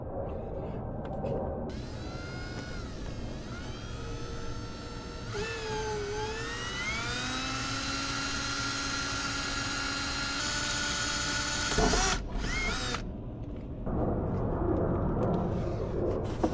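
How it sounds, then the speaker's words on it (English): A drill boring a pilot hole into sheet metal, ahead of cutting with a 2-inch hole saw; a steady high whine with shifting pitch runs nearly throughout, close and fairly loud, briefly cutting out near the end. "let's put a pilot hole into the metal right here"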